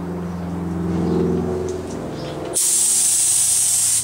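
A steady engine-like hum gives way abruptly to a loud, constant hiss of red spray paint from a can, continuing evenly until it cuts off at the end.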